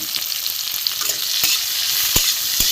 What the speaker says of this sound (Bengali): লাল করে উচ্ছেটা একটু ভেজে নেব